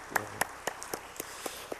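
Scattered hand claps from a church congregation ring out as distinct individual claps spaced at roughly regular intervals, several people clapping in a reverberant hall rather than sustained applause, with no speech over them.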